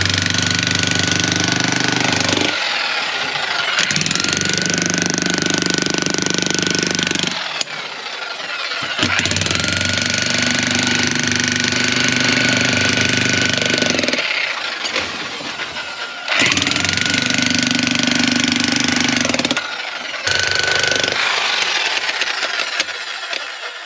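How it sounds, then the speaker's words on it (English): Jackhammer breaking rock in an opal mine, a loud, continuous pounding rattle in long bursts separated by short pauses, close and dominant throughout. "might have to get on the jackhammer for a minute,"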